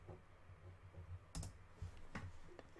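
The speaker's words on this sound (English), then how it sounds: "let's type that in" A handful of quiet, separate keystrokes on a computer keyboard are typed in a few short bursts over a soft room hush, with no one speaking.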